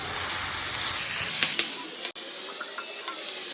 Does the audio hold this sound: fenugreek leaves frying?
yes